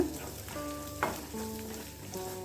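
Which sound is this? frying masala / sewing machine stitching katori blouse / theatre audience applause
frying masala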